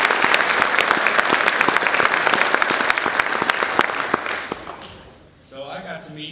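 A spring concert audience breaks into warm applause, many hands clapping loudly and steadily for several seconds before fading out, followed by a voice speaking over the room.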